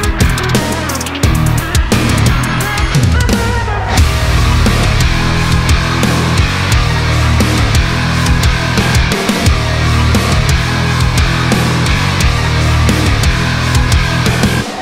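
A full music track plays back during mixing, with a dense, punchy low end, drums and layered instruments. It runs continuously and loud, with no talking.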